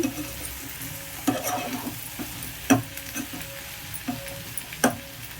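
Drumstick pieces frying with onion in a pan, a steady sizzle punctuated by several sharp scrapes and taps of a spatula against the pan, with no talking.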